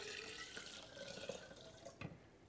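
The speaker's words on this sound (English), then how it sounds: "we're going to stir in our cold water" Cold water pours steadily into a pitcher of old-fashioned lemonade, a soft continuous splashing and trickling that stays even and close, with a slightly louder splash near the end and no voices.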